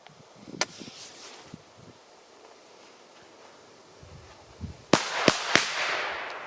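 VOLT 3-3 XP1017 Triplex firecrackers jump and explode: scattered small pops and crackles, then three sharp, loud bangs in quick succession near the end, outdoors with no voices.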